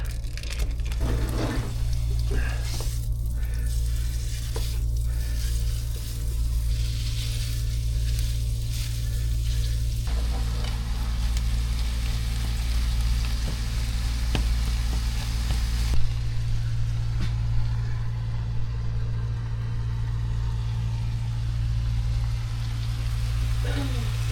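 Chorizo sausage frying in a pan for breakfast tacos aboard a houseboat, a constant hissing sizzle over a low steady hum, with a voice speaking over it.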